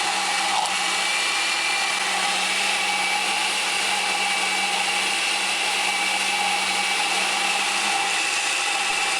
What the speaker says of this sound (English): After the time, turn off blender.